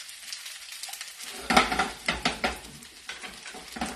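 Cooked string beans are stirred in a hot pan, a spoon scraping and tapping in a few quick strokes over a soft sizzle, close up after a moment of quiet.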